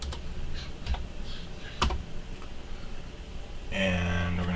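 Typing on a computer keyboard while entering Cisco router commands, scattered close key clicks in short bursts with a louder run of keystrokes at the end.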